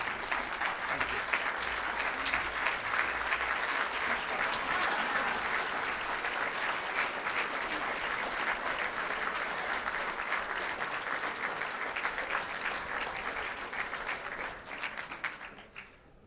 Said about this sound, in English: One more round of applause, please, guys